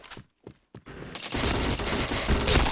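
In the shooter game Point Blank, a few quick, spaced gunshots lead into a sustained burst of rapid automatic fire that grows louder and denser toward the end.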